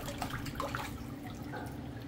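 Warm water runs from a tap into a sink as a steady, continuous rush with no breaks and no voices over it.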